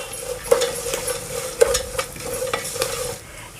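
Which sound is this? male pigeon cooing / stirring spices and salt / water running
stirring spices and salt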